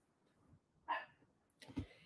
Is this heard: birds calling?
no